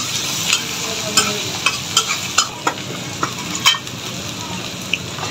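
Potato pieces and bay leaves frying in hot oil in a pan, a steady close sizzle broken by repeated scraping stirs of a spatula, with no talk.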